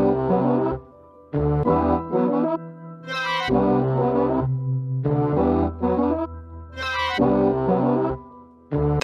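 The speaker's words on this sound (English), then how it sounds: "Another thing I did is pitching down the trumpets," Pitched-down trumpets in a music production, deep brassy stabs with a foghorn-like low tone, playing a rhythmic melody in loud bursts separated by short gaps.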